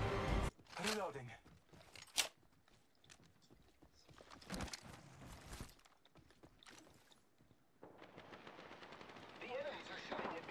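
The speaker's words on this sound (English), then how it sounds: "The enemies are shooting at me." Enemy gunfire in the Apex Legends video game, with sharp shots and bursts spread across the clip and one loud crack near the start, mixed with game sounds and a voice talking.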